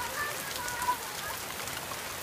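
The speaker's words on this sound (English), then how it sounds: "Look at that rain." Rain pours steadily outdoors near a trampoline, a dense, even hiss of drops spattering on surfaces, fairly soft and unbroken, with a faint voice briefly in the background.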